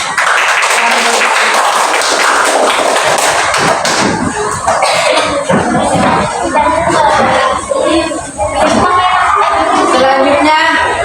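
A classroom audience of students claps, a loud, busy patter of many hands with scattered thumps and voices mixed in, carrying on steadily for several seconds.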